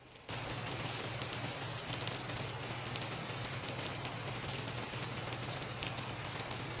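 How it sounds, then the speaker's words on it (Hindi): Heavy rain and hail pour down outdoors during a severe storm, a dense, steady hiss of drops striking surfaces that continues evenly and fairly loud throughout, with a low hum running underneath. "देखें यहाँ पे ये ओले भी पड़ रहे हैं, इतनी शदीद बारिश थी"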